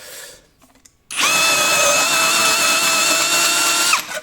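A drill with a sheet metal cutting attachment cuts through metal, a loud sustained high buzzing whine that kicks in sharply after a brief quiet moment, holds steady for about three seconds, then stops.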